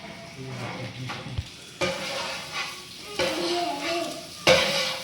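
A large wok of Chinese fried rice with chicken, onions and a big batch of vegetables sizzles while being stirred, with loud scraping tosses at about three points and steady frying in between.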